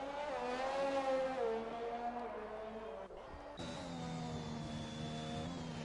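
A race car on intermediate tyres slides through a drift on a Japanese track. Its engine gives a sustained, shifting whine, dropping out briefly before a higher-pitched tone carries on.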